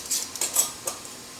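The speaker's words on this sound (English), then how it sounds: "now we'll hand tighten down the bands" Metal screw bands turned down by hand onto glass canning jars of raspberry jam, giving a few faint, scattered clicks and light metallic scrapes close by with no talking.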